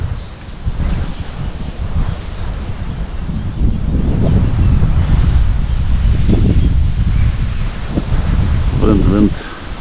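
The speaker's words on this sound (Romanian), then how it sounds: "Oh, e bate vântul." Gusty wind rushes and buffets by the Prut River, with leaves rustling and the roar swelling stronger midway; a voice briefly speaks in Romanian near the end.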